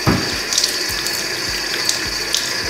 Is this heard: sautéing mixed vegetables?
no